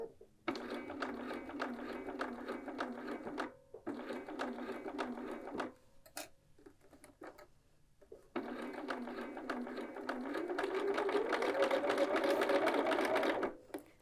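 Domestic sewing machine stitching a patch pocket onto a quilted jacket, running in steady close bursts with brief pauses between seams and a longer, faster run at the end.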